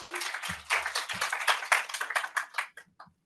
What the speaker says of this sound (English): Round of applause for Maria and Maria.